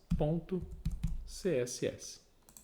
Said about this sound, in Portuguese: Vou dar um Ctrl S aqui no meu teclado para salvar.